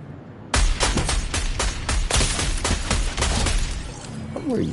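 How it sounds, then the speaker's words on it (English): A rapid string of loud, close gunshots in Fortnite erupts suddenly and keeps firing in an uneven burst for about three and a half seconds, then breaks off. "I hear the gunshots, I see the bullets"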